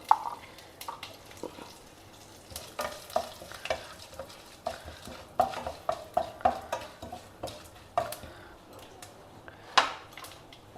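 Curry leaves and hing roasting in hot oil in a pan, with crackling sizzle and repeated sharp spatula scrapes and taps against the metal, close and fairly loud.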